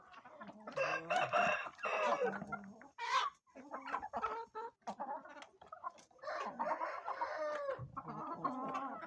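Several chickens cluck and squawk close by in a busy, overlapping chorus, with a brief call from a Hint (Asil) rooster among the hens.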